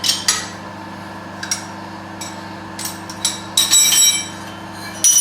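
Metal clanks and taps ring out from unbolting and backing off toe clamps on a milling machine's rotary table, a few sharp knocks and rattles spread over a steady low machine hum.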